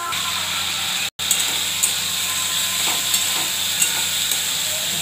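Potatoes with turmeric being sautéed in a pan for Bengali aloo dum give off a steady frying sizzle and hiss with light stirring scrapes, close and continuous apart from one brief dropout.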